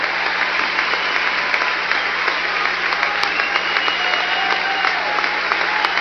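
A crowd at a revival meeting applauds steadily and loudly for the full stretch, with a low hum running underneath and no speech.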